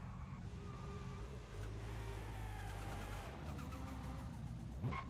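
A car engine revving and driving in the racing game Forza Horizon 5, a mid-pitched motor climbing and shifting through gears with tire noise, steady and moderately loud, no voices over it.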